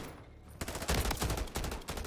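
Burst-fire rifle shots in Modern Warfare III come in rapid, punchy clusters after a quiet start, loud and dense over the rest of the moment.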